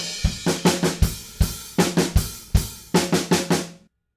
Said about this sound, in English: That's a really classic rock fill.